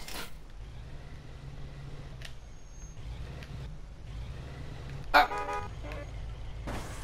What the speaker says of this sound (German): Ja, meine Hupe ist viel schöner als deine.